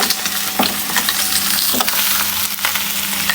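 Katla fish sizzles steadily in hot oil, a loud continuous crackle with occasional sharper pops and faint utensil scrapes, close by and without talk.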